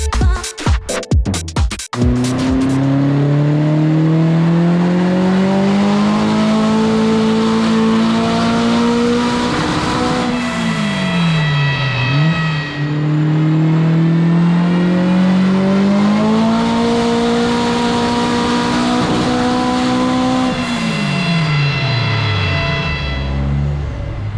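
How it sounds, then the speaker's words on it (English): A car engine revs hard and steadily under load on a dyno rolling road during full power runs, climbing in pitch, easing off briefly, then climbing again, loud and continuous. "with the car strapped down and the safety checks done and the first few full power runs"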